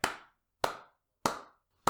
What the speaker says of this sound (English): Thank you for the slow clap